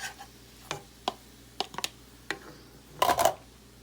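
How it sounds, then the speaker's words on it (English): Summer squash is stirred into a vegetable filling for homemade lasagna: scattered soft clicks and scrapes of a utensil in the mix, ending in a brief, louder burst of mixing, with no voices. "Mix that in a little."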